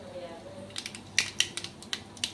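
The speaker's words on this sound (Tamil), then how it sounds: "பேன் ஹீட் ஆகிடுச்சு. இந்த டைமில் நான் கடுகு ஆட் பண்ணிக்கிறேன்." Mustard seeds spluttering in a hot pan while cooking a Tamil chow chow masala, heard as sparse, sharp crackling pops that come in irregular bursts close by.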